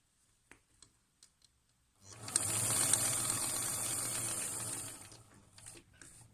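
Faint clicks are followed by a sewing machine running a sustained seam on a fabric face mask, a close, steady whir lasting about three seconds before tapering off.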